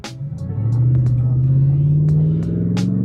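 A 2020 Dodge Ram pickup with over 400 horsepower accelerates hard, its engine note climbing steadily in a loud, close rumbling roar that eases slightly toward the end.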